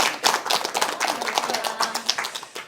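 An audience at a Bible-science lecture claps in welcome, a close, uneven burst of individual hand claps with distinct sharp hits scattered throughout.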